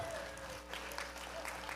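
Audience applause for the organizing staff at a Parkinson's Expo, brief and fairly faint clapping with a steady hum running underneath.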